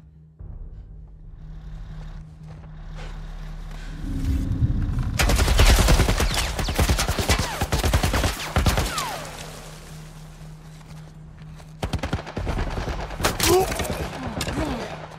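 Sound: military turret gunfire in The Last of Us Part 1 video game

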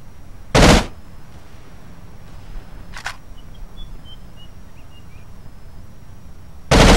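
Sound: M249 machine gun fire in video game America's Army

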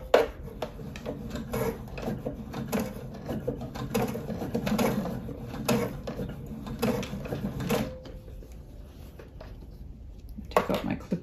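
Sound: sewing machine stitching binding on quilted oven mitt

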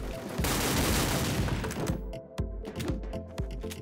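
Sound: Vemper shotgun firing in video game WolfTeam

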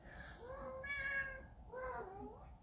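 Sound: cat meowing

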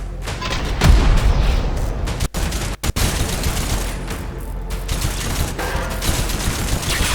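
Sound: weapon gunfire in the video game Scathe

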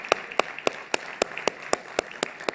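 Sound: audience applause at forum

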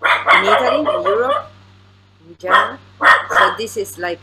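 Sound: dog barking

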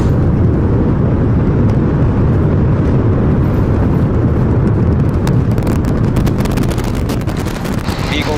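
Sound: SpaceX Starship Super Heavy rocket liftoff roar

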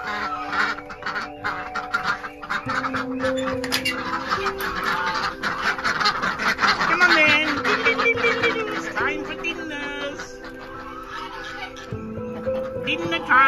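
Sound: farm ducks and geese honking

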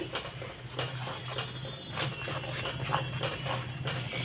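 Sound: stirring chopped tomatoes in a cooking pan

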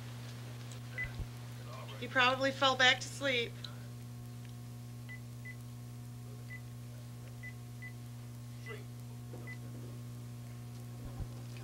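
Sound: touch-tone telephone dialing

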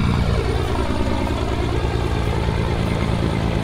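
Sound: truck engine in Euro Truck Simulator 2, video game

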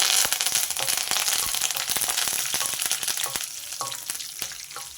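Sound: curry leaves and garlic tempering sizzling in oil

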